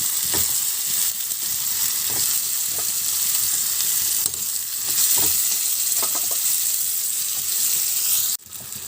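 Eggs go into a bubbling egg curry and fry with a loud, steady sizzle, broken by scraping stirs and a few clinks, close at hand with no voices.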